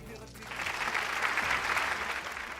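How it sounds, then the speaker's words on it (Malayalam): Studio audience applause on a Malayalam TV game show, a dense burst of clapping that swells after a brief quiet start and holds steady and loud for the rest of the clip. "നല്ലൊരു കയ്യടി."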